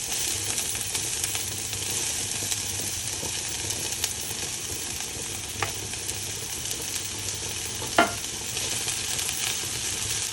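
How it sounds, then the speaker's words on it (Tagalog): Onions sautéing in hot olive oil for a Spanish sardine pasta give a steady, close sizzle and crackle that runs throughout, with a couple of brief sharper clicks from stirring and no talking. "Kaya mainit na yung ating oil. Magisa na tayo ng ating sibuyas."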